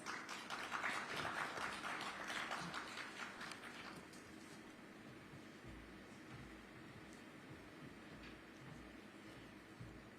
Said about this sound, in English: with a nice big round of applause